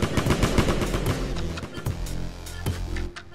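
Video game gunfire from the mobile shooter Urban Crooks opens with rapid automatic bursts that give way to a few sharper isolated shots, loud and close, with no talking.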